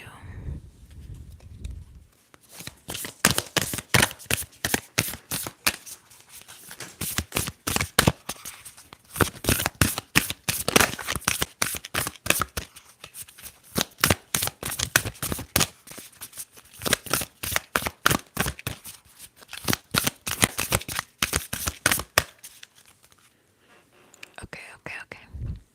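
Tarot cards shuffled steadily and close to the mic, a long run of crisp riffling snaps in a quiet room, with soft whispering before and after.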